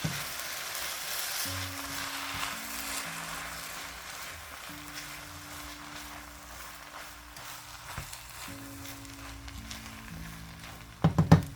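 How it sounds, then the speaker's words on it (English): Soy sauce stirred into a sizzling one-pot dinner: a steady close frying hiss with a low hum beneath, ending in a few louder scraping stirs of the utensil in the pot. "add in the soy sauce itself. And stir that around."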